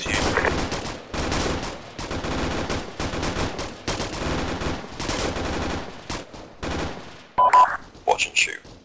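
Automatic gunfire in the military shooter ArmA 3 comes in repeated rapid bursts of about a second each, separated by short pauses. Several sharper, louder shots crack at the end.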